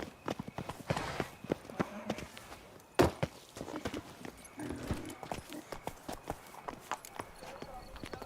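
Horse hooves clip-clop in a steady ridden rhythm in The Witcher 3: Blood and Wine, sharp repeated thuds close by, with a voice talking over them and other game sounds around.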